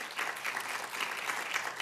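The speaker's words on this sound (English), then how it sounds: "you guys should definitely applaud Council Member Steve Levin" A crowd at a community children's reading event applauds a city council member: steady, dense clapping from many hands, moderately distant, with no talk over it.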